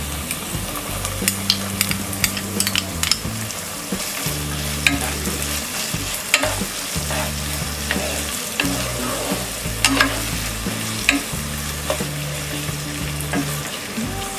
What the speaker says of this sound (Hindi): हमने 2 मिनट तक ग्रीन पीस और गाजर को फ्राई कर लिया है